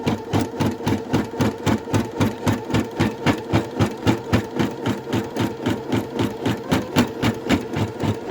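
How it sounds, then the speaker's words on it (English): An embroidery machine stitches a patch, its needle hammering in a fast, steady mechanical rhythm with a motor hum underneath; loud and close, with no talking. "you reattach the hoop to the machine and run the next step"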